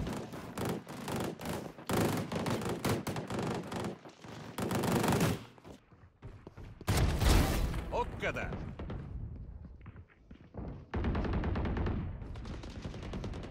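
Gunfire from an online shooter game rattles in rapid bursts and single shots, loud and dense, with gaps between volleys, while someone speaks over parts of it.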